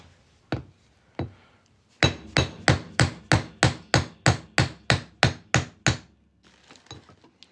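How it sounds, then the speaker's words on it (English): Two spaced metal taps, then a steady run of about a dozen sharp hammer blows on a 90% silver half dollar coin being shaped into a ring, ringing and evenly paced, close and loud. "We're going to hammer this on through here."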